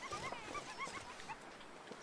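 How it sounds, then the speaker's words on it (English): Wolves in the survival video game The Long Dark bark and yip in repeated short, high calls from a distance, scattered across the clip over a steady ambient wash. "All I can hear is barks and yips everywhere."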